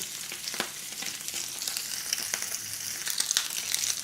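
Salmon fries skin side down in a hot skillet with a steady, close crackling sizzle and a few sharp pops and spatters, alone without talk.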